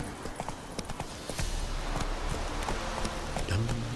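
Roach the horse galloping in The Witcher 3 video game, a rapid close clip-clop of hooves on ground with rustling, continuing throughout and growing heavier midway.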